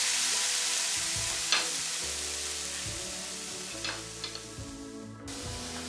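Mushrooms frying in a pan for a mushroom tart, a steady soft sizzle with a few brief stirring clatters, fairly quiet and alone without talk.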